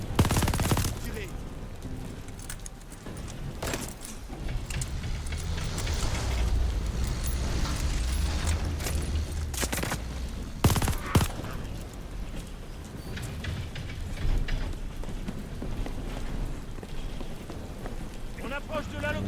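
Sustained gunfire in the Call of Duty Vanguard campaign near a locomotive, rapid automatic bursts and crackling shots layered over constant rumble, with a loud burst near the middle.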